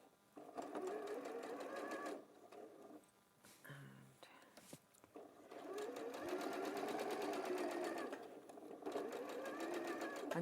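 Domestic sewing machine stitching a garment armhole seam from underarm to underarm, whirring in long steady runs with a short pause near the middle, fairly loud and close, with no talking over it.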